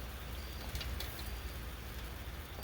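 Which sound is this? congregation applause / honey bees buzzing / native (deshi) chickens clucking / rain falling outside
rain falling outside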